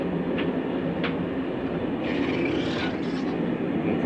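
Steady rumble of a moving passenger train heard from inside the carriage, a continuous low roar with a couple of brief clicks and a faint high whine rising partway through.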